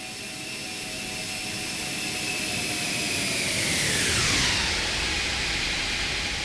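Jet engines of a ToLiss Airbus A340 in a flight simulator game sweeping past in a flyby: a loud, broad roar with a high whine that swells toward the pass, then drops sharply in pitch as the aircraft goes by.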